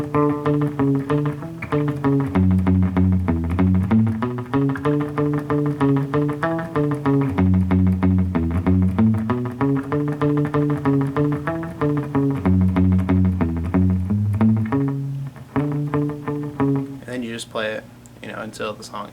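Guitar plays the interlude and outro of a song, a steady repeating riff of sustained, shifting notes played alone, thinning out in the final seconds.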